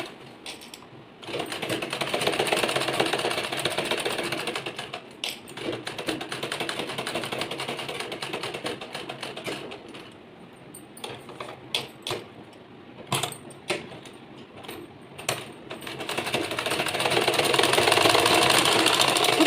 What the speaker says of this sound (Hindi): बुकरम के किनारे किनारे में आपको सिलाई लगाते जाना है।